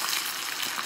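Large shrimp deep-fry in hot oil, giving a brief, dense crackling sizzle that stays steady and fairly quiet, with no talking.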